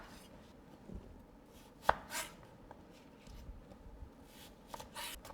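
A knife cuts a peeled apple into matchsticks on a cutting board, giving a few quiet, scattered chops and taps, with one sharper knock among them, in a hushed kitchen.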